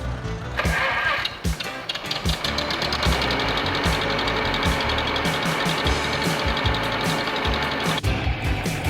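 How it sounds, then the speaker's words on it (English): A 1955 John Deere Model 50 gas tractor engine runs close and loud, steady and continuous with a thumping low rhythm and rattly overtones, moving along at a good clip during a classic tractor tour. "Paul's got a nice 1955 John Deere Model 50 gas tractor"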